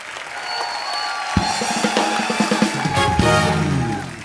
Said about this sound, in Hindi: जोरदार तालियां इलियाना के लिए।